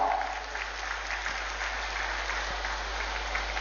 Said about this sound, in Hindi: तालियां आपकी ओर से हो।